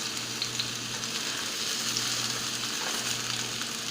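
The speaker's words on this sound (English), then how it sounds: "You just want them to be sizzling, like constantly at a state of sizzle." Eggplant sizzling gently in oil in a pot, a steady close crackling hiss with faint stirring, constant and even throughout with no talk.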